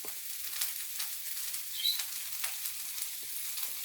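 Eggplant frying in a pan for soup gives a steady, soft sizzle that holds evenly throughout, with a few light clicks and stirring taps rising briefly above it.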